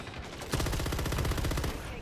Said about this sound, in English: Guy was just shooting a random place.